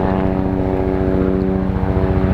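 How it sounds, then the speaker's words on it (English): A helicopter passes overhead, its loud droning engine and steady rotor thump filling the whole stretch without a break. "Oh, come on, there's a helicopter."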